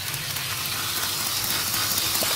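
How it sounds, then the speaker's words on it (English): An Athearn CSX EMD GP40-2 HO scale model locomotive runs at full speed past a station, producing a steady close hissing whir of motor and wheels on track. "It's gonna go a little bit faster. I'm gonna drive right by the station. And that is full speed."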